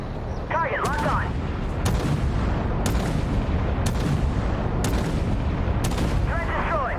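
An autocannon firing high explosive shots in the Armored Warfare tank game: a regular series of heavy booming reports about a second apart over a constant engine rumble, with brief whistling game effects.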